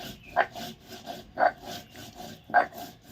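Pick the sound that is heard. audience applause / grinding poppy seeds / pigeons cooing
grinding poppy seeds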